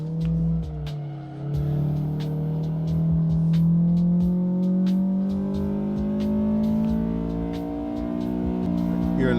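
A race car engine in Assetto Corsa climbs steadily in pitch as it accelerates hard through the gears. The close, loud whine comes with sharp ticks and a voice talking over it.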